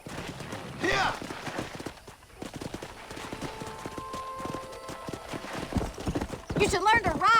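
Horse hooves clip-clop steadily in Red Dead Redemption, with a neigh near the start and another burst of whinnying at the end, under ongoing voices in the game.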